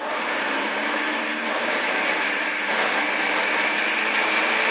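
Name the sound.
blender blending corn soup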